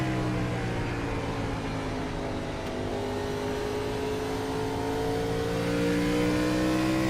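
A race car runs on a circuit somewhere off in the distance, its engine note rising and falling through gears as it moves along the track, a steady moderately quiet whine with gradual pitch changes.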